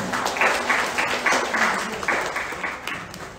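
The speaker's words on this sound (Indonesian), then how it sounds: "Tepuk tangan untuk seluruhnya." A small crowd at a calligraphy workshop applauds with scattered, moderate clapping that rises and falls slightly, heard from a little distance.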